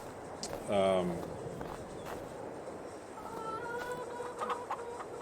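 Chickens at a coop in the farming game Farming Simulator 22 give a brief burst of clucking, followed by softer chicken calls later, under quiet background ambience.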